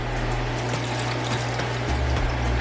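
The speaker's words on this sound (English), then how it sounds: "I will determine if it wants more when I pour this in" Water pouring into a pressure cooker, a steady loud gushing stream close by over a low hum, with a slight shift in tone as the flow continues.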